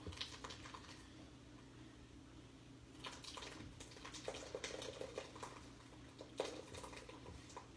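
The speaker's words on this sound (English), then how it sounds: "I'm just going to pour this into our strainer that I have lined with the paper towel" A hot homemade ricotta mixture poured slowly into a strainer lined with paper towel, giving soft trickling, splashing and gurgling liquid sounds with a few light clinks, quiet and close.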